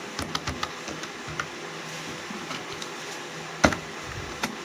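Quick tapping of keys on a laptop keyboard, irregular light clicks close by over a steady low hum, one louder stroke near the end, no speech.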